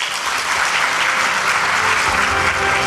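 Loud, sustained audience applause fills the hall at a Saemangeum investment agreement ceremony after a Hyundai Motor Group presentation, steady and close with no voices.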